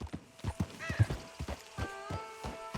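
Hooves trot in a steady clip-clop rhythm as a horse moves at a brisk pace in Red Dead Redemption 2, nearby and clearly audible with no talk, a short high whinny-like tone rising partway through.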